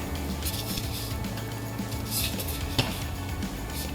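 Food being mixed in a bowl with popcorn kernels, close scraping, rustling and occasional clinks of utensil against the bowl over a steady background hiss.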